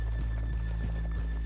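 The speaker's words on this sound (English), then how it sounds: "let's leave the horses here off the main drag" A horse in Red Dead Redemption 2 clip-clops steadily over ground, hoofbeats thudding in an even rhythm close by under a constant low hum, with a brief whinny-like tone.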